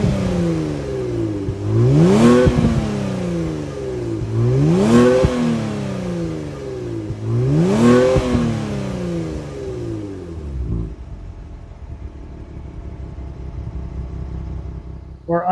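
A 2019 Kia Stinger GT2 with a 3.3-liter twin-turbo V6 and quad-tip exhaust revs three times in a steady rhythm, each rev rising and falling sharply, before settling into a lower idle rumble.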